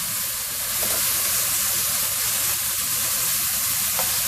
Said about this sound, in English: The garlic is going to be doing a little browning or burning.